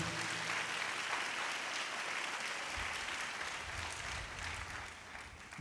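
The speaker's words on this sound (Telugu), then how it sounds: "చప్పట్లు కొట్టి దేవుడు మహిమపరచండి గట్టిగా." A church congregation claps loudly together in praise of God, a dense, steady wash of applause filling the whole stretch without pause, with a few low thumps near the end.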